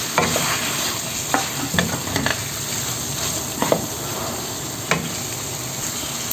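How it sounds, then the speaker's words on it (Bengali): Washed pieces of fish, for a Bengali hilsa curry, drop into a pan of hot oil and fry with a loud, continuous sizzling hiss, punctuated by occasional clicks and scrapes of a utensil, with no talking. "এখন আমি দিয়ে দেবো মাছগুলো"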